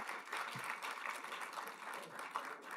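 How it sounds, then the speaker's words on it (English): Faint, steady applause from an audience at the launch of the Ghana Sustainable Finance Roadmap, a continuous wash of many clapping hands heard from a distance. "Please, a round of applause once again."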